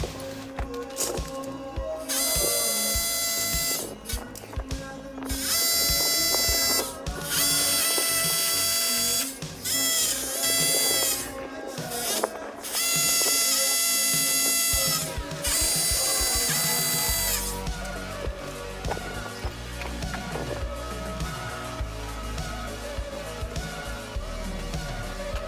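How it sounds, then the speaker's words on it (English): A hammer drill whirs in repeated bursts of several seconds each, biting into a brick or stone house wall, then a longer, rougher grinding stretch toward the end. "So let's drill now."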